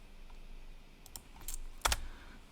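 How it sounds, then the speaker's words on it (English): Typing on a Mac computer keyboard: a few sparse, faint key clicks, then a brief louder cluster of presses near the end, with no talk. "Oh, sorry, I'm pressing the wrong keys here."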